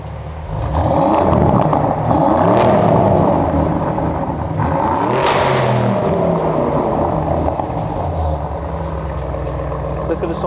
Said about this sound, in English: It's also got the performance exhaust on it as well.